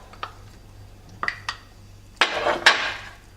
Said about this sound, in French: Le beurre, on le mélange bien.